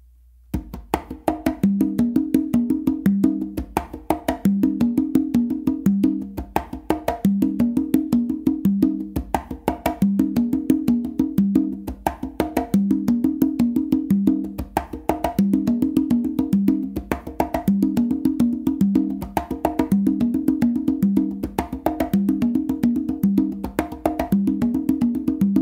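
Congas played in a guaguanco-feel tumbao: a steady, unbroken rhythmic pattern of open tones and slaps that loops evenly for the whole stretch, close and solo.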